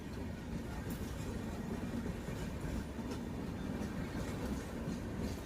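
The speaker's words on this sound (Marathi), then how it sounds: "आणि कन्याकुमारी पुणे एक्सप्रेसचं आगमन" Kanyakumari-Pune Express passenger train rolling along the rail line, a steady, loud rumble with faint wheel clatter running throughout without any voices.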